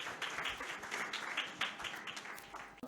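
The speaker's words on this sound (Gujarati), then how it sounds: "તાળીઓના નાદથી વધાવીશું" An audience applauds at a public speaking event, a steady wash of many hands clapping that sounds fairly distant and soft, with a few louder claps standing out.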